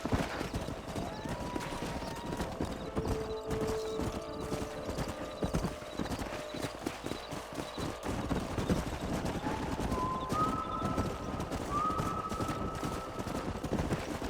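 Horse hooves clip-clop steadily through a Red Dead Redemption 2 scene, an ongoing rhythmic trot under layered game ambience with tonal music lines and occasional whinnies, with no talking over it.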